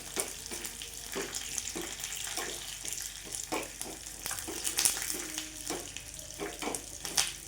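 Crushed garlic tempering is poured over a bottle gourd curry, giving a faint, uneven crackle and sizzle with small wet splashes and clinks scattered throughout, and no voices.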